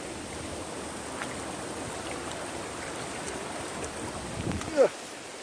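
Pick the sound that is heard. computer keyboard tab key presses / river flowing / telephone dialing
river flowing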